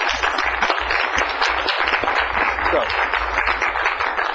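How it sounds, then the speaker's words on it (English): A crowd at a county board of supervisors meeting applauds staff, with steady dense clapping throughout and a brief spoken word over it. "I do really want to give a round of applause to all of the staff."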